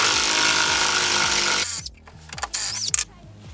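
Ronix 280 N·m impact driver backing out a screw, a loud continuous whir breaking into a rapid series of hammering impact clacks, then a few short bursts before stopping.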